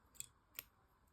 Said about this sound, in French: Je vais venir couper le fil